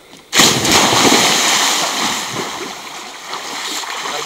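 River water splashes in with a sudden loud burst, then keeps up a steady rushing, bubbling wash close by, with no voices over it.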